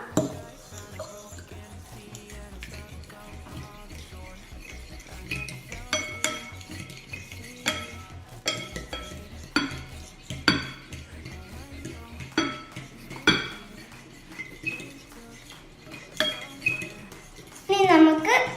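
Food being mixed in a pot, likely with prawns and spices: repeated clinks and scrapes of a spoon against metal, irregular and fairly close, with some background chatter.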